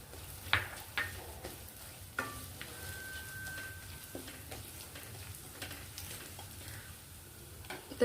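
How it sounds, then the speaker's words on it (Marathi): Dry fruits being stirred into roasted semolina (rawa) in a pan over a low flame for dry fruit shira, with a soft, steady sizzle and occasional scraping knocks of a spoon against the pan. "त्यामध्ये आपण जे ड्रायफ्रुट्स आहेत ते टाकून घेऊ।"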